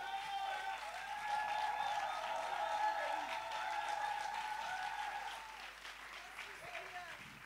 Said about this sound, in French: Acclame le Seigneur pour recevoir notre sœur Rosine Defou du Sycomore.